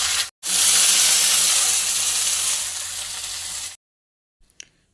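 Masala paste hits hot oil with onion, green chili and bay leaf for an egg tarka: a loud, sudden sizzling hiss that slowly eases for about three seconds, then cuts off to near silence.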